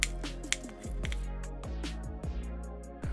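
A knife cuts onions in half on a cutting board while preparing a spatchcock roasted turkey, giving a few short, close, crisp crunches spread over a few seconds.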